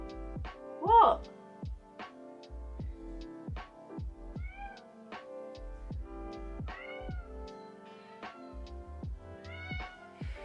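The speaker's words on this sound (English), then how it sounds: "Cat!" A pet cat, one of two named Roxy and Jinx, meows several times indoors in short bursts, mixed with nearby talking and some louder rising cries.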